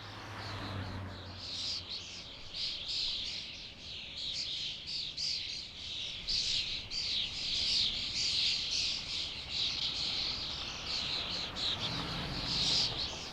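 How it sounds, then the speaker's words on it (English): A large flock of starlings calls continuously from a roost in cypress and pine trees in a Rome cemetery, a dense, shrill chattering and twittering chorus held steady throughout, with faint low rumble beneath. "The starlings seek refuge in the evergreen trees"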